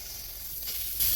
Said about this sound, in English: steaming this is pretty satisfying, especially knowing that it actually works